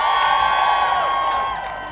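Rally crowd cheering, whooping and applauding for a speaker, a loud dense roar of voices and clapping close and all around, sustained for two seconds and easing slightly at the end.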